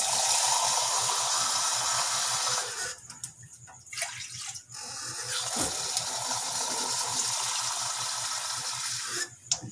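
Three cups of water poured into a pot for noodles in a home kitchen, a steady rushing flow with a short break midway, close and loud with no talk.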